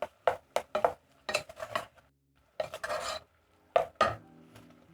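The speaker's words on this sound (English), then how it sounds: "Then I'm going to add in 1 beef stock cube. Stir in." A spoon stirs a beef stock cube into a pot for Kenyan mukimo, giving short scraping and clinking strokes in uneven bursts with quiet gaps between them, close and fairly soft.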